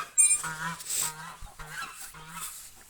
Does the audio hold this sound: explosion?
no